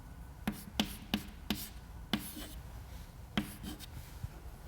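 Marker or chalk writing on a lecture board, a string of sharp taps and short strokes in an irregular rhythm, close and fairly quiet against a faint room hum.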